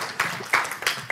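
Scattered clapping from an audience at a hospital federation conference, a few sharp claps rising over a soft room background, fairly close and brief.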